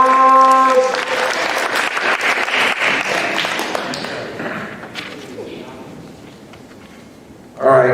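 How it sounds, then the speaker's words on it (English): An audience at a school knights assembly applauds an award recipient, a sustained wash of clapping that follows a brief voice at the start and fades toward the end before a sudden louder sound. "Let's give her a round of applause"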